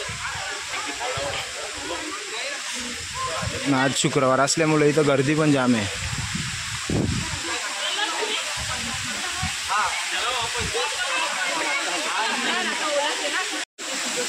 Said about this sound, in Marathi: आणि वरती जाम धबधबे चालू आहेत.